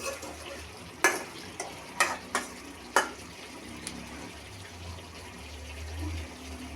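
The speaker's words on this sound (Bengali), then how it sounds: "আলু প্রথমে কতক্ষণ তেলে দিয়ে খালি খালি ভেজে নিয়ে এখন সব মশলা দিয়ে" New potatoes sautéing with spices in oil in a pan, a low, steady sizzle under a few sharp spoon scrapes and clinks bunched in the first three seconds, with no talking.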